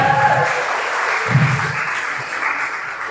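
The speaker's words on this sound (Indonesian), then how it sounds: "Ada tepuk tangan buat Bu Lili." An audience at a stand-up comedy show for an Indonesian Independence Day celebration applauds steadily, a dense wash of clapping that stays loud for a few seconds.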